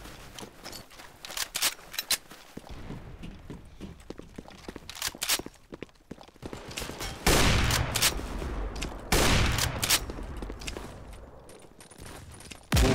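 Roblox gunfire, with scattered sharp shots early on, then heavier bursts of rapid automatic fire with short pauses between them, close and loud.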